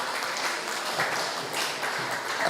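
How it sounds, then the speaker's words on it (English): Audience applause fills a town hall meeting of the Nevis Reformation Party, a dense, steady wash of many hands clapping at even loudness throughout, with no talk over it. "Give them another round of applause"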